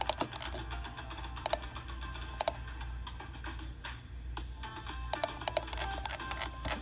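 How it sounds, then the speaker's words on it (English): A computer keyboard clicks quietly and irregularly during typing at a desk, with scattered sharp keystrokes and small bursts over a faint steady hum, and no voices. "I'm sorry that you hear clicking."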